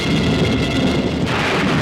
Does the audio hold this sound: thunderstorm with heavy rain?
yes